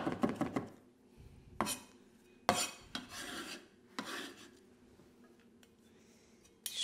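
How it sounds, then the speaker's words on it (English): A knife finely chops garlic on a board, giving a few sharp scraping and tapping strokes spaced irregularly, close and fairly quiet, with no speech. "Garlic, finely chopped."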